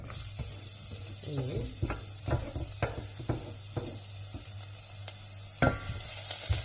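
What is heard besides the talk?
garlic sizzling in frying oil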